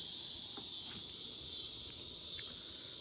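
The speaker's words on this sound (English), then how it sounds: "I know the cicadas are loud, guys." Loud cicadas buzzing in a continuous, steady high drone that fills the whole stretch without pause, with a few faint clicks and rustles underneath and no voices.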